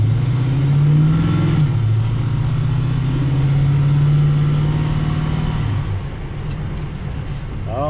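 A car engine with a fuel issue hums at a steady mid pitch, lifting once early and easing off near the end, a continuous close drone with no voices.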